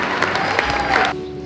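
Wedding guests clap in a brief, lively burst of applause with a few cheers mixed in, close and full before cutting off abruptly near the end.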